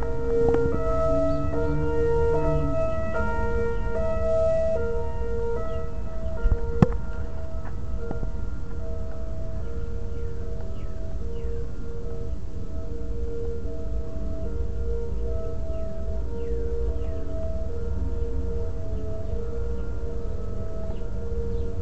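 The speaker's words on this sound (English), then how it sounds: "I just think our sirens sound cool, I wanted to film them." A civil-defense tornado siren in Dubuque sounds a steady test on a sunny day, its long wailing tone rising and falling while a brief click sounds partway through.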